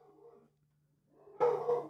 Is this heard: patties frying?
no